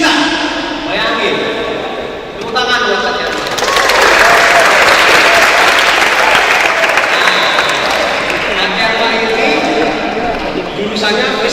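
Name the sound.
audience applause for Kak Tiarma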